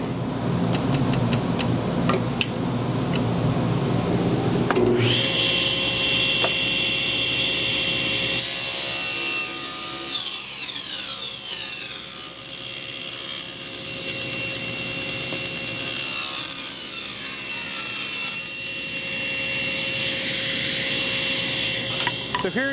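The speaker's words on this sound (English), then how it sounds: "I'm going to make a couple more cuts, and then Braden will take it away." A miter saw cuts wooden boards in a close workshop. A rasping bite through the wood is followed by a long steady whine of the spinning blade, changing in tone as each cut runs and winds down.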